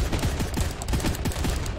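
Rapid bursts of video game gunfire, sharp repeated shots in quick succession forming a steady fusillade for about two seconds, loud and close with no talking over it.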